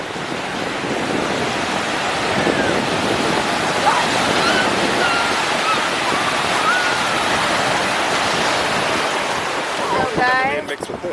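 Beach surf at Isle of Palms near Charleston: a loud, continuous wash of breaking waves with wind buffeting the microphone, and faint voices and a brief squeak near the end.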